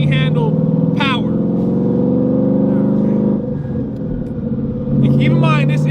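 A turbocharged Ford Mustang S550 tuned to about 850 horsepower pulls hard, its engine holding a loud, steady drone and rumble that dips briefly, then rises again. People talk over it near the start and end.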